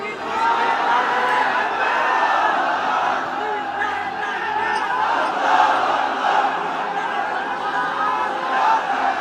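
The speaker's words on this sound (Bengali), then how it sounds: "তাকবীর দেন তো একজন আওয়াজ করে।" A large crowd at an Islamic religious sermon gathering shouting takbir in unison, a sustained loud roar of many voices lasting throughout.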